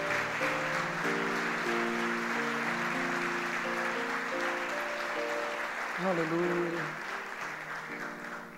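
A church congregation applauds during a worship service, a steady wash of clapping running beneath sustained keyboard chords while a voice calls out briefly.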